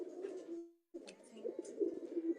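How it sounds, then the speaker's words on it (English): Birmingham roller pigeons cooing in a loft, soft low throaty coos repeating in a broken rhythm, with a brief silent gap early on, fairly faint and close. "These are Birmingham rollers."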